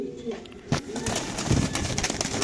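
King pigeons cooing at a pigeon farm, soft low coos mixed with rustling and shuffling, close by, over background noise.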